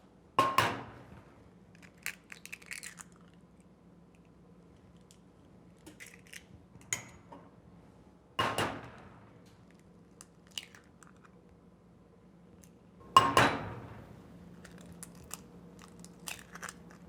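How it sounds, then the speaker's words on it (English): Eggs cracked into a pan, three separate sharp crunching cracks spaced several seconds apart, close and quiet, with faint small clatters between them and no talking. "Crack our eggs in there."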